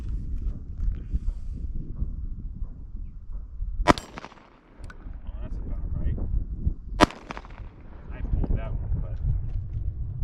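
Pistol firing MagTech 115 grain bullets outdoors, two sharp loud shots a few seconds apart, each cracking over a rumbling background of wind and murmured talk.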